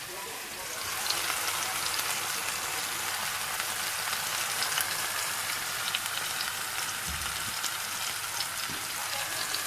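Chicken curry seasoned with paprika and crushed black pepper crisps in a pan, giving a continuous even sizzle like light rain, close and steady for the whole stretch.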